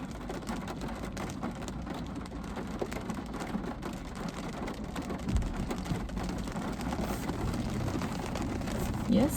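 Steady rain patters on the body and glass of a Renault Zoe as it reverses, a constant close hiss with occasional louder drops, while people talk inside the car.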